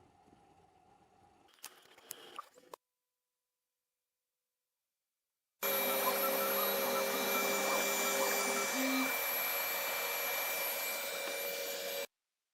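A WeCreat Vision laser engraver runs its calibration with a loud, steady whirring hum like a fan or vacuum, lasting several seconds after quieter clicks and a brief silence. A short tonal blip sounds partway through.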